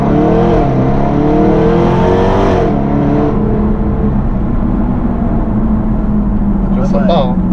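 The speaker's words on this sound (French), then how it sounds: "Il y a vraiment une accélération fulgurante là, dans cette voiture" An SVR supercar accelerates hard, its engine roar climbing in pitch through rapid gear changes, loud and close inside the cabin, with people talking over it.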